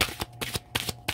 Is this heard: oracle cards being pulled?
yes